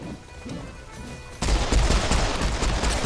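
Gunfire in the video game Serious Sam 4 erupts halfway through as a loud, dense volley of rapid shots after a quieter stretch of ambient game sound, continuing steadily to the end.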